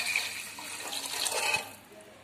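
Water poured over rice in a pot for cooking vallarai keerai rice: a soft, steady splashing trickle that fades toward the end, fairly faint and close.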